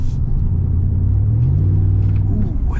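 Deep, steady exhaust rumble from a Hennessey Mammoth 400 Ram pickup truck, heard from inside the cab with the back window open; a loud, continuous low drone that rises slightly in pitch, with no talking.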